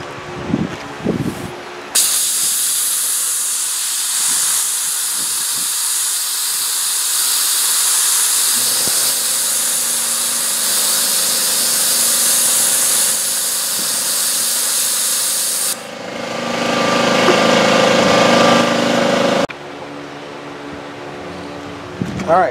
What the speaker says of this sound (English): y'all didn't have to sit there for listen to my air compressor charge up